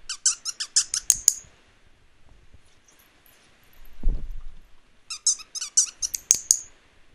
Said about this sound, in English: I think there's a squeaker in here